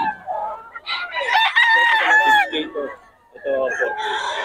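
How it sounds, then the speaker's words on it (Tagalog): Chickens crow and cluck loudly nearby in Bocaue, with a rooster's long crow in the middle and more squawking calls after a short pause. "Maraming manok to."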